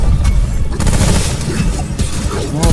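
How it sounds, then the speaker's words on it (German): Gunfire in the video game Remnant from the Ashes, a rapid dense burst of shots and booming impacts that runs without a break and overlaps into a chaotic fusillade. "Oh, Schüsse in den Hintern!"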